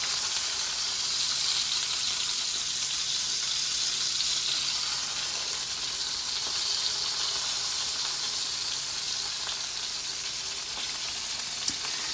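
Cheeseburger patties frying in a pan give a constant, dense hissing sizzle, close and even in loudness throughout, with no talking over it.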